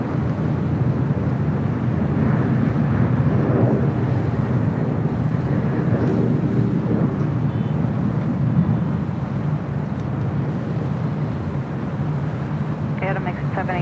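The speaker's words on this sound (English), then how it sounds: "Another heavy China Airlines Flight 6 coming in from Taipei, a 777-300ER, next arrival here on the north side." A heavy China Airlines Boeing 777-300ER from Taipei lands at LAX on the north side with a loud, steady jet roar that fills the whole stretch, while people talk over it.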